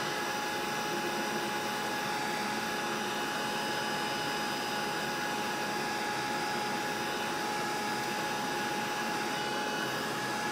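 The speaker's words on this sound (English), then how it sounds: "can you guys hear me okay through when the heat tool's running?" A craft heat tool runs during card making, a loud, continuous blowing whoosh with a faint steady whine. It holds evenly close to the microphone for the whole stretch, without any voice.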